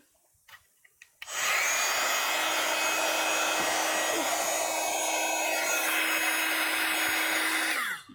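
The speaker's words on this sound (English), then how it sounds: "I am going to go and blast this with my heat tool, my other heat tool, my more noisy one, and more intense" A noisy, intense embossing heat gun switches on after a few small clicks and roars loudly and steadily for about seven seconds over powder on paper craft, then cuts off.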